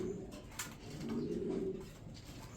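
Soft, low cooing from Andalusian-colored pigeons close by, a couple of gentle throaty calls in quick succession against quiet background.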